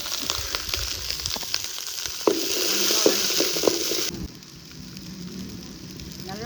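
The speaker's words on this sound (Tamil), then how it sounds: "சின்ன வெங்காயம் போட்டு நல்லா வணக்கிட்டு" Small onions (shallots) frying in oil in a pan for a mushroom kurma, a bright, dense sizzle with stirring scrapes that suddenly drops to a quieter, low crackle partway through.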